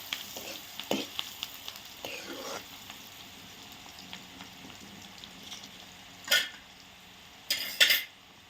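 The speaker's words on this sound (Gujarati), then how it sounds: "ઝીણી સમારેલી ડુંગળી નાખીશું। ડુંગળીને એકદમ સરસ ચડવા દેવાની છે।" Finely chopped onions fry in a pan with a soft continuous sizzle, light stirring and a few utensil clinks, then two louder bursts of hissing near the end, up close and without talk.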